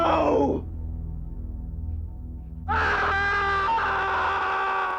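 A man in a movie screams in anger, a loud strained cry of roughly half a second at the start, followed by a low rumbling pause and then a sustained loud tonal swell of dramatic music.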